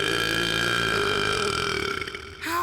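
A cartoon character lets out a long, loud, sustained burp that drones steadily with a tonal quality before sliding upward into a brief vocal sound at the end.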